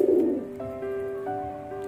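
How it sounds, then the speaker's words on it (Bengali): A male Black Muslidom pigeon in a loft calls with a close, low coo. The coo is repeated a few times in short rounded phrases, with no talk. "এই নটটা দেখতে পাচ্ছেন, নটটা ডাকছে।"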